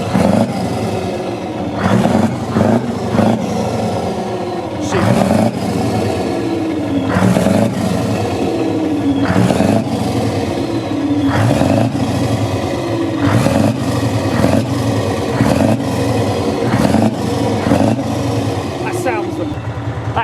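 Silver Scania racing truck engine at a Brands Hatch truck racing event, revving in repeated loud bursts that rise and fall against a rumbling idle, with people talking throughout.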